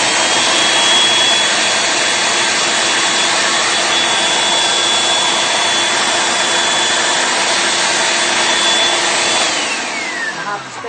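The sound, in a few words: food processor processing chickpeas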